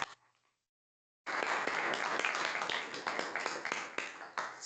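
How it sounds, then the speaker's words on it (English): A sustained burst of applause from people at a town council meeting, loud and steady after a brief quiet moment, clapping dense and continuous for several seconds. "So I want to give them a round of applause."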